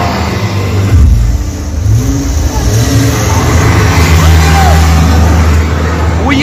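A finished car moves off at a Moscow transport exhibition, its engine noise loud and steady amid a busy hall with voices murmuring around.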